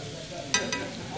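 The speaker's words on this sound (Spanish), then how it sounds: "Estamos aquí sofriendo el pollo" Chicken and churrasco sauté with onion in a little hot oil, a steady soft sizzle with a couple of brief sharper crackles as the pan is stirred.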